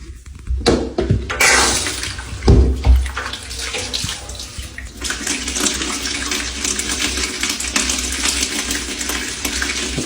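A shower on the middle floor of a house runs steadily at about 2.4 bar during plumbing pressure checks, a loud close hiss of spraying water with a few knocks and clatters near the start.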